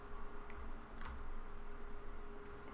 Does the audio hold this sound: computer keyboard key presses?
yes